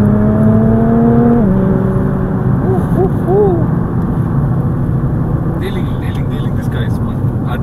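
A Nissan GT-R supercar moves along city streets in Kenya, its engine giving a loud, droning hum whose pitch climbs and then levels off. People talk over it throughout.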